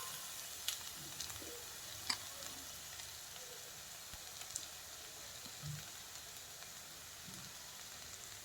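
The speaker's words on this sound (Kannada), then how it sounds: "ಫ್ರೈ ಮಾಡ್ಕೋಬೇಕು." Fenugreek leaves and carrots fry in a pan with a faint, steady sizzle, broken by a few soft stirring clinks and scrapes.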